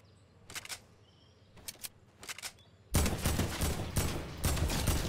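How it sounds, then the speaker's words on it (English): A heavy assault rifle in Fortnite fires three short, crisp bursts, then breaks into louder, sustained automatic fire with brief gaps. "I love the heavy AK! It's back in Fortnite!"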